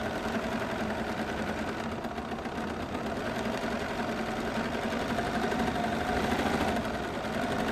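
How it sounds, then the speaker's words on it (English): A domestic sewing machine stitches continuously during free-motion quilting on fabric, a fast, steady mechanical whirring and clatter up close, with no talking. "the faster you move the fabric,"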